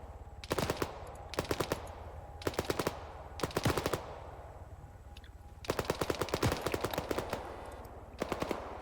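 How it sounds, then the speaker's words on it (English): Light arms fire in an Arma 3 Cold War battle, aimed at an incoming helicopter: rapid automatic bursts in repeated clusters, some brief and some sustained, crisp and fairly close, with short pauses between volleys and no talking. "So they're firing light arms at it at this time"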